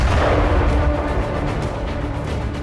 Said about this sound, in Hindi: हमले के बाद कई धमाके हुए